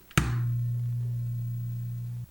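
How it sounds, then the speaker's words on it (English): A guitar amplifier switches on with a sharp pop, then a steady low electrical hum holds alone for about two seconds before cutting off. "turn on that amp and listen to that hum"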